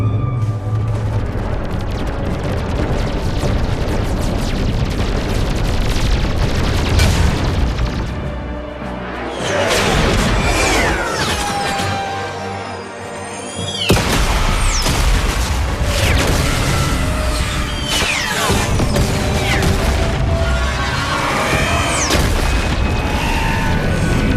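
Weapons fire and explosions from the video game Mass Effect 3 roar continuously, with dense booms, bursts and crashes packed together throughout a loud, chaotic battle.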